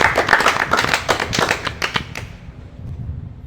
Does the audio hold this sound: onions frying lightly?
no